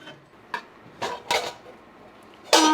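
An old brass spice box with compartments is handled in an antiques museum, giving several separate metallic clinks and knocks with short ringing tails, the last one the loudest, against a quiet room.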